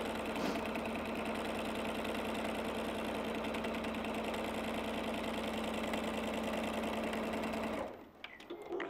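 A sewing machine backstitches and then stitches across fabric, running in a steady, close, continuous mechanical whir for about eight seconds before stopping, followed by a few soft handling clicks.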